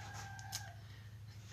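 A rooster crows once in a backyard flock of Araucana or Ameraucana chickens, a short bright call fairly close and clear over quiet background hum.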